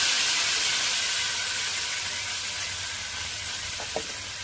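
Ground paste is added to a hot tempering for okra gojju, a loud, steady sizzle of frying filling the clip, easing slightly over time, with a couple of faint clinks near the end.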